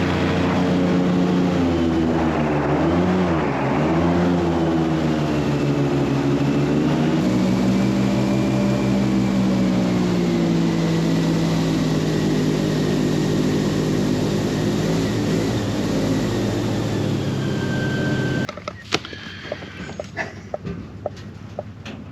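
A loud, droning airboat engine with a whirring propeller roars steadily and close by in the Everglades, its pitch shifting slightly, then cuts off abruptly near the end, leaving quieter clatter.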